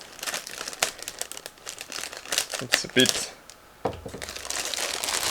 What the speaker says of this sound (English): So now I'm opening this plastic bag.